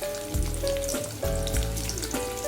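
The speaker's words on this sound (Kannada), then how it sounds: "ಈಗ ಎರಡು ಸಾಸಿವೆ ಜೀರಿಗೆ ಚಟಪಟ ಸಿಡ್ದವ್ರಿ ಈಗ ಹೆಚ್ಚಿದು ಉಳ್ಳಾಗಡ್ಡಿನ" Chopped onion fries in hot oil with crackled mustard seeds and cumin, a close sizzling hiss punctuated by a few dull low thumps as the pan is handled.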